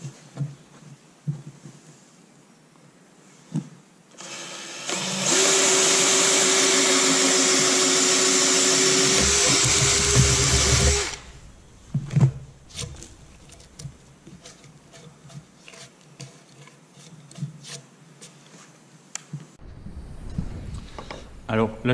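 A drill bit bores through a wooden tenon, a loud steady motor whir lasting about six seconds with the pitch dropping as it loads, then stops, followed by scattered knocks and handling noises.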